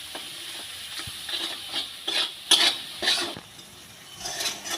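A Bengali spice paste with salt is sautéed and stirred in a pan for chanda fish curry, with steady frying sizzle and repeated scraping spatula strokes against metal, close up and without voices.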